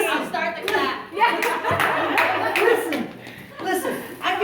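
Several people clap in quick scattered bursts, close by, mixed with chuckles and laughter amid casual talk.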